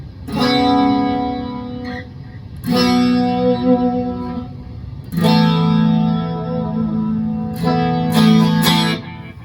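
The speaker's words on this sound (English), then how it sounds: "Strong delay too." Electric guitar on a clean channel plays chords in bursts, each trailing off with strong repeating delay echoes and a shimmering chorus tone; no talking.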